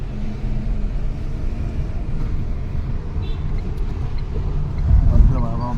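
Steady road traffic rumble with engines idling and moving near a highway toll booth, low continuous noise, a louder vehicle swelling near the end, with speech from people nearby.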